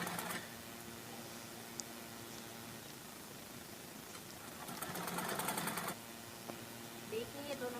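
Sewing machine stitching a sleeve onto a simple blouse, a steady close mechanical whir with rapid needle chatter that speeds up briefly in the middle, running continuously throughout.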